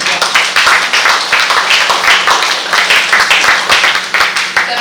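Loud, close applause from an International Women's Day audience honoring a women's council, with distinct individual claps forming an uneven rhythmic patter throughout.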